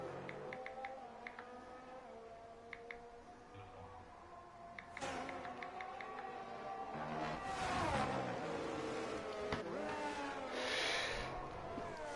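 A race car in a racing game heads up toward the finish line at Imola, its engine note rising and falling through gear changes, fairly faint with a few whooshing passes.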